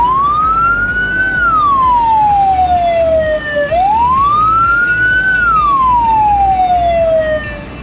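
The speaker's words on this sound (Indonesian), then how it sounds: "frekuensi bunyi yang paling unik dan paling lambat. menandakan kalau ambulans atau mobil jenazah sedang membawa jenazah" A slow, wailing siren of an ambulance or hearse carrying a body rises and falls in two long sweeping cycles, loud and close over low traffic rumble, with no talking.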